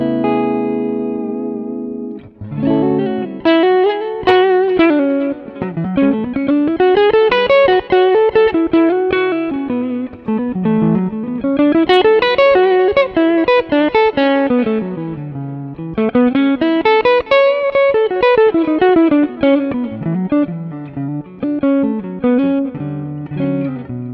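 Ibanez RGIXXV 25th Anniversary electric guitar played on the neck pickup through a YMS distortion pedal, with continuous distorted melodic lines and sustained notes filling the whole stretch, loud and close, with no talking.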